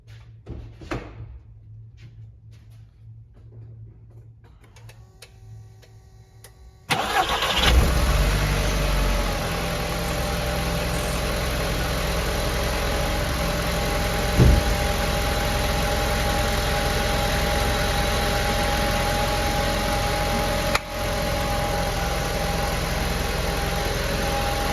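Audi TT Mk1 with the 1.8T engine cranks and fires after a quiet lead-in, then settles into a steady, loud idle close by for the remainder, with one brief blip partway through.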